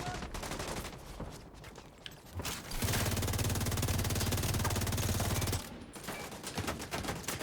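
Video game gunfire crackles in bursts, then a loud, sustained machine-gun stream runs for about three seconds before scattered shots resume, with mechanical clatter between.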